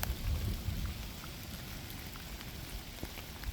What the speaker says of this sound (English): it's not pouring rain, but it is definitely raining